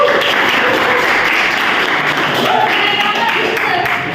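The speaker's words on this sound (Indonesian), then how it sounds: "Kita tepuk tangan." A talk-show audience claps and cheers loudly and continuously, a dense wash of applause with voices mixed into the crowd noise.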